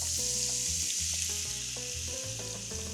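Tteokbokki frying in rendered beef intestine (gopchang) fat, a loud continuous sizzle with stirring clatter, close and steady throughout.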